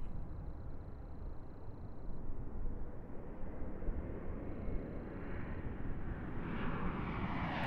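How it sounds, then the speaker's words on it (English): An Airbus A220 jet passes near Raleigh-Durham International Airport, its engine roar building from a steady rumble into a louder, brighter whine toward the end, with no talking. "I hear an A220."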